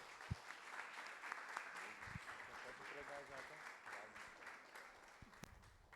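A church congregation at a worship service claps in a faint, distant patter of applause that runs under a murmur of voices and some room noise.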